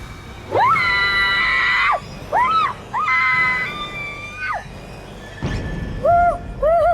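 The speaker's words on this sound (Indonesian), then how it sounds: "Ada apa sih teriak-teriak gitu?" A person screams loudly in several long, harmonic bursts with short gaps, close and alone at night in a house during a horror drama.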